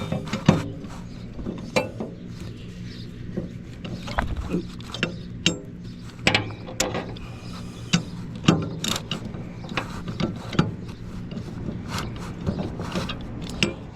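Ratcheting clicks and metallic ticks from a wrench tightening a cutting blade on a Husqvarna Z248F zero-turn mower, irregular bursts close by with occasional knocks and scrapes, no talking.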